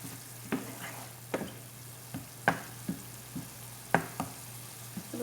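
Meat cooks in a pan with a soft steady sizzle, punctuated by several sharp knocks and clinks of a utensil stirring against the pan at irregular intervals, close and fairly quiet.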